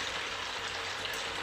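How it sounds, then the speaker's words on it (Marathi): Semolina medu vada fry in hot oil over a low flame, giving a steady, quiet, even sizzle and bubbling hiss that continues without pause and with no voices. "आणि थोडे सोडून आपल्याला तळून घ्यायचे"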